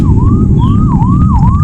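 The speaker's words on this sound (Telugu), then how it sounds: "పక్క నుంచి ఒక అంబులెన్స్ వెళ్ళడం చూశాను" An ambulance siren wails loud and close in a rising and falling cycle, repeating several times over a steady road rumble.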